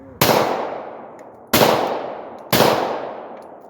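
A handgun fitted with a Holosun sight is fired one-handed, three sharp, close shots with ringing decay, spaced unevenly about a second apart.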